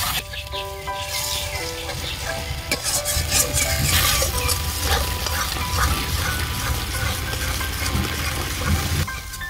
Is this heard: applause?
no